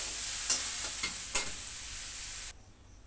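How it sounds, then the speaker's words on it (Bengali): Soybeans and potatoes stir-fried together with spices in a pan, a steady sizzle with a few scraping stirs before the frying noise cuts off. "এবার আবার একসঙ্গে কষিয়ে নেব দুটো।"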